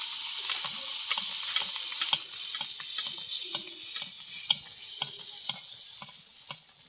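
Pitha fry in hot oil in a kadai, giving a close, continuous sizzle dotted with rapid crackles and pops that never let up.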